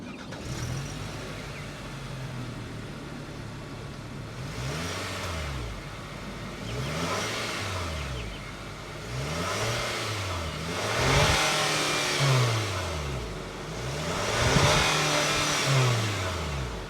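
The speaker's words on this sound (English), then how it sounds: "let's fire up this 2-liter naturally aspirated 4-cylinder and hear how she sounds" A 2025 Nissan Kicks 2-liter naturally aspirated four-cylinder engine turns over and starts, then revs several times, each rising whine climbing and falling back to a rumbling idle, loud and close.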